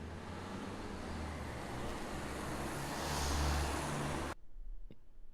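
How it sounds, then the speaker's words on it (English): Steady road traffic with a car swelling louder as it passes close by, then an abrupt cut to near silence. "some car sounds,"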